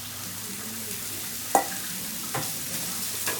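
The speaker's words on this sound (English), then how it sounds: "what I'm gonna do is also brown some onions" Onions browning on a 36-inch Blackstone griddle give a steady, soft sizzle with a sharp spatula scrape and a few lighter scrapes and taps, heard alone without talk.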